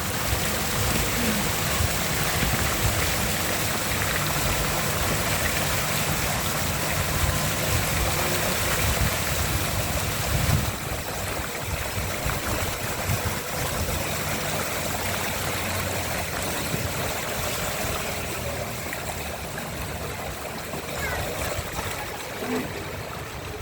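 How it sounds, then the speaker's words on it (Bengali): Floodwater pours across a village road that has gone underwater, making a continuous broadband rush like a fast stream. The sound stays steady and loud for over twenty seconds and eases slightly in the second half. "চারিদিকে শুধু পানি আর পানি"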